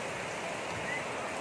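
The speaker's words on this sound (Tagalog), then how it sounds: "lakas ng ulan" A dense, steady hiss of heavy rain pours down without pause, close and enveloping.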